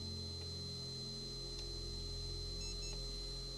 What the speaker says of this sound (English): 2 beeps audible